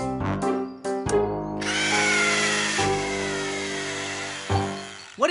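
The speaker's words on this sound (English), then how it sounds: "We're the drilling Bananas" A cartoon power drill drives screws into the fins of a toy spaceship, whirring in close, loud bursts that stop and restart several times.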